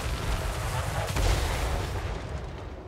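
Units firing in the fantasy battle game Total War: Warhammer 3, a loud rolling roar of volley fire and booming blasts with one heavier thump in the middle, sustained and close before easing off.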